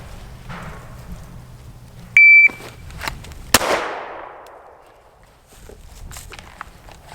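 Shot timer beep followed by a single handgun shot fired at close range on a range, a short electronic tone then one sharp loud crack with ringing decay.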